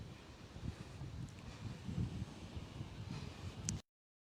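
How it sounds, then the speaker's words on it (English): Wind sweeps across a beach resort at Cap Cana, a faint, steady rumbling buffet on the microphone that cuts off abruptly near the end. "Quite windy today."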